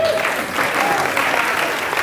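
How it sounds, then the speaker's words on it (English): Steady applause from an audience at a teaching workshop, a dense continuous patter of clapping that holds at an even level for a couple of seconds. "Can we give Jacqueline a big clap?"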